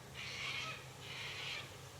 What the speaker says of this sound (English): Birds are going crazy out here.